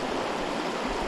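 A river on Alaska's Shuyak Island flows with a steady, dense rushing wash, close and continuous, with no voices.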